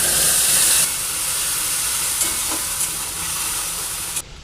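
Ground spice paste poured into hot oil after frying fish, a loud close hissing sizzle that flares at first then settles into a steady fry with a few stirring scrapes.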